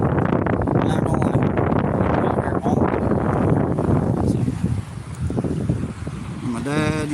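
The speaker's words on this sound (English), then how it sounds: "It's gonna be a little windy right here" Strong wind buffets the microphone outdoors at a lakeside or riverside fishing spot, a loud, rough, continuous rumble that eases slightly toward the end.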